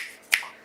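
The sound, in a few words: finger snap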